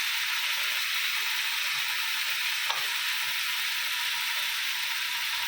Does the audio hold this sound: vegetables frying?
yes